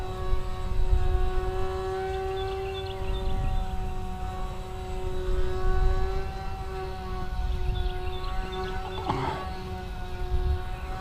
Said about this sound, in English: This airplane flies pretty good.